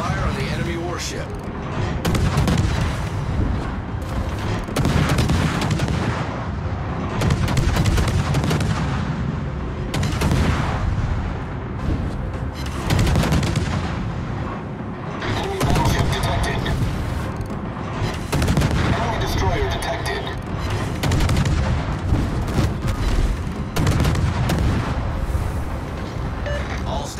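Warship naval gunfire in a video game, heard as heavy, loud cannon booms and rumbling salvos that roll on almost continuously, with brief lulls between volleys.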